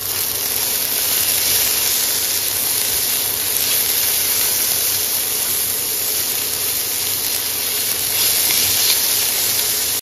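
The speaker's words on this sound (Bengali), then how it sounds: "মিডিয়াম ফ্লেমে দিয়ে দেবো এবার কেটে রাখা চিকেনটা" Chopped chicken and vegetables sauté in hot oil over a medium flame, producing a loud, unbroken hiss that holds level for the whole stretch with no voices over it.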